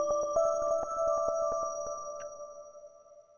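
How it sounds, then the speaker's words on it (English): A Christmas bell synth built from a modified Serum "sweet ring" preset, heard alone at the intro of a Christmas song: a steady ringing tone with a rapid run of bright struck notes that thins out and decays into a fading ring. "So the Christmas bell at the intro,"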